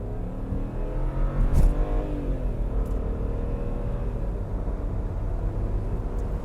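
BMW 335i accelerating hard under turbo boost, a loud steady engine drone rising in pitch with a brief burst of extra rumble early on, no voices over it.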